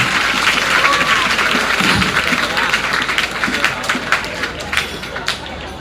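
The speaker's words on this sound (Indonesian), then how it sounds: "Tepuk tangan untuk salah satu teman kita" An audience at an Islamic lecture in Indonesia applauds a fellow attendee called up to the front, loud dense clapping with crowd murmur that thins into scattered individual claps toward the end.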